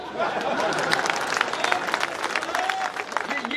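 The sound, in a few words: audience applause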